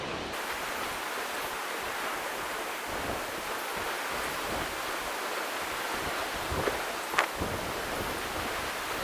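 Ocean waves roll in at a sunny car camping spot, a steady broad wash of surf with some wind noise and a couple of faint thumps near the end.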